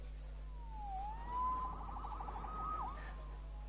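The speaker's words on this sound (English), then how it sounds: "Saved by the siren." A police siren wails in the Spider-Man PS4 video game, its sweeping yelp rising and falling at moderate distance over a low steady hum, with no talking.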